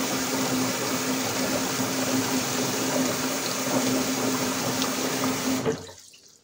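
Water running steadily from a tap during a wet shave, a continuous close hiss and splash that stops abruptly near the end.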